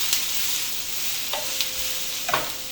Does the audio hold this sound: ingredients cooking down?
yes